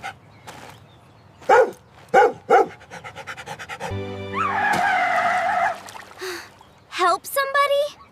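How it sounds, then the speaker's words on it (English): A dog in an animated story barks a few sharp times, mixed with voices, a sustained mechanical tone and other busy background sounds. "That's a lot of barking all of a sudden."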